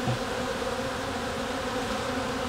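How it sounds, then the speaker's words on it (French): Honeybees swarm densely at a hive in autumn, robber bees from other colonies crowding in, making a continuous close buzzing drone with no pauses. "il y a énormément d'abeilles qui sont probablement pas de cette ruche-là qui viennent dans celle-ci tenter de voler des ressources"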